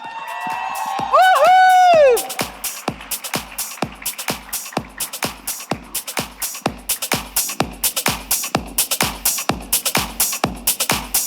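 A studio audience at a television show's grand launch event claps steadily to welcome a guest onto the stage. A rising musical sting opens the moment, then brisk, even rhythmic clapping carries on to the end.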